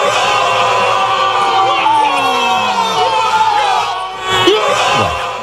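A crowd of neighbours yells and cheers loudly for a football goal during a Copa América match, a dense, sustained roar of voices with a rising shout near the end.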